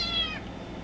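A cat gives a single short, close meow that slides downward and fades within half a second over faint room noise.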